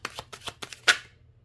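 Tarot cards shuffled by hand in a quick burst of crisp riffling taps, about six sharp flutters ending in one louder snap, close and alone with no talk.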